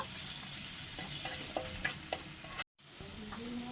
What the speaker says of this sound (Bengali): এবার ভালো করে মশলাগুলি ভেজে নেব।